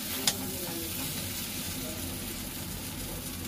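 Cauliflower for chilli gobi fries in a pan with a steady, even sizzle close up, broken by a brief sharp click near the start, and no voices over it.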